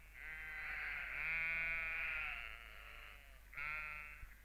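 Sheep bleat in a fallow grazing field on a reconstructed medieval English farm: one long, wavering bleat followed by a shorter second call, fairly close and clear over a faint low hum.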